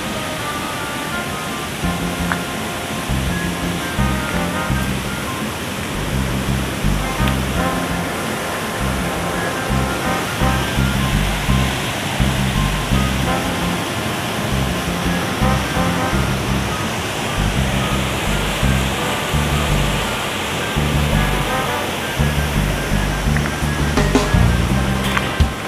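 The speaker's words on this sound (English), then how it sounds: "you can't hear them because of the loud roaring noise of the river" Loud, steady roar of Noisy River, a fast river on the border of St. Elizabeth and Manchester, Jamaica, rushing water filling the scene without pause from start to finish.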